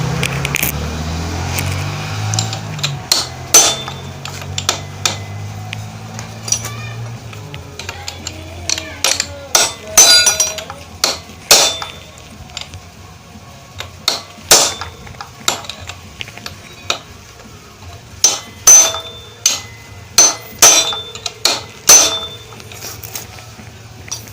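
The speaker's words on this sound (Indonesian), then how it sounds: "Oke teman-teman, kita kencangkan di sini bautnya" Metal tools clink and clatter against a Honda Supra motorcycle's clutch assembly as its bolts are tightened, with sharp, irregular knocks and ratcheting taps, close and loud, coming in uneven bursts after a brief whirring at the start.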